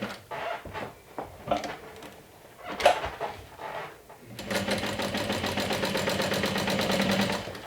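A sewing machine stitches an adjustable bag strap, starting with a few handling knocks and clicks, then running at a steady rapid rhythm for several seconds, close and fairly loud.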